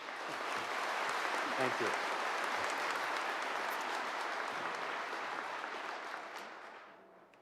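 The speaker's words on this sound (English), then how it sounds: "give them all a round of applause." A graduation audience at Henry Wise Wood's 2025 ceremony bursts into sustained, loud applause that fills the hall for several seconds before fading, with a brief spoken thanks underneath.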